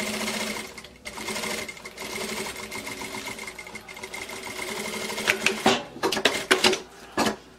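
A sewing machine stitches fabric for a bag. It runs steadily at first, then breaks into several short, start-stop bursts near the end. The sound is close and fairly quiet.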